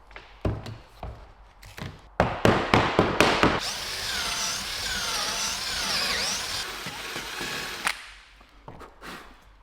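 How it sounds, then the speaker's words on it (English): A few sharp knocks and taps, then a power drill whirs continuously for about four seconds close by, drilling through a laminated sailboat frame piece, winding down before more scattered taps. "now I'm gonna drill a hole through this to that floor"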